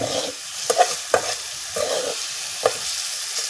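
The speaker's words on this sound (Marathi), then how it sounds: "मस्त फ्राय होते आता" Bombay duck fish frying in a pan, giving a steady bright sizzle with a few sharp stirring or spatula knocks over about three seconds, close by with no voices.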